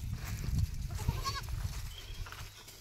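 Goats kept for farming eat leaves and give a short wavering bleat in the middle, over rustling and munching close by.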